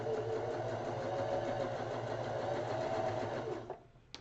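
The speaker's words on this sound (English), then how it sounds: "sew that 1/4 inch seam. I'm just going to chain right onto that." A sewing machine stitches a quarter-inch quilt seam, chain piecing in one continuous close mechanical whir that stops abruptly near the end.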